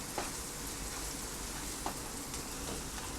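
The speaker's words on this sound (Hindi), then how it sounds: "चॉप किया हुआ ओनियन, गार्लिक। इसको अभी उस वक्त तक भूनना है जब तक ये ब्राउन नहीं हो जाता।" Chopped onion and garlic browning in a hot pan give a dense, even crackling sizzle throughout, close and moderately loud with a couple of faint clicks.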